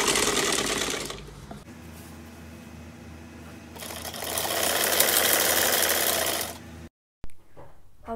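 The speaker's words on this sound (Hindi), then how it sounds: "और अब मैं इसको इस पर रख के सिलाई लगा दूँगी।" An electric sewing machine stitches lehenga fabric in two bursts of fast, steady whirring with a quieter pause between, then stops abruptly, followed by faint handling noises of the cloth.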